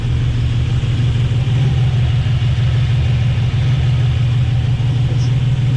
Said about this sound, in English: It's idling fairly smooth.